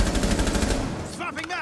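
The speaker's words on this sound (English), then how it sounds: "They're trying to shoot me from the hole." Automatic gunfire in a Rainbow Six Siege match fires in a rapid, loud, continuous burst close by, then fades into scattered echoing shots from farther off.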